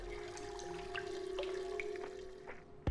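Water sloshing and bubbling as a body is immersed, a continuous gurgling wash with small drips and splashes, fairly close, ending in a sudden thud.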